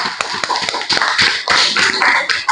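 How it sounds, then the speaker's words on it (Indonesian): Students clapping in a junior high classroom for a presenting group, a burst of scattered, uneven claps close by that comes in two waves over a couple of seconds, with no talk over it. "kita beri aplaus untuk kelompok 3"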